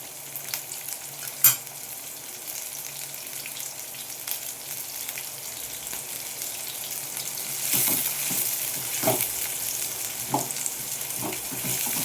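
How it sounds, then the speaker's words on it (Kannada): Brinjal strips sizzle steadily in a pan of hot oil, with a sharp crackle near the start and a few louder scrapes of stirring toward the end; no one speaks. "ಸ್ವಲ್ಪ ಫ್ರೈ ಆಗಲಿ ಇದು."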